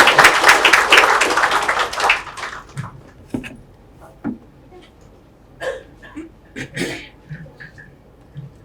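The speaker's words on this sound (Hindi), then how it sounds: "थोड़ा सा जोरदार ताली हो जाए" An audience at an academy orientation session breaks into loud, dense applause for about two seconds. The clapping then thins to a few scattered claps and faint noises in a large room.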